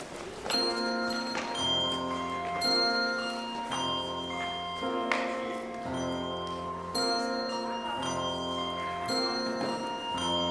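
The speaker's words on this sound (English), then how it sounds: "Throughout the years, the people rang the bells many times." Pitched bells ring out a steady melodic sequence of clear, resonant strikes, each note sustaining into the next, as part of a children's musical, with no voices.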